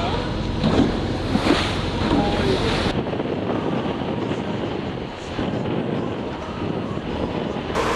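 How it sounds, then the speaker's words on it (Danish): A boat sails across the Sea of Galilee, with a steady, broadband rush of water and wind gusting on the microphone throughout, louder and harsher in the first three seconds before settling into a softer continuous wash. "Vi slutter turen af med en skøn sejltur på Genesaret Sø."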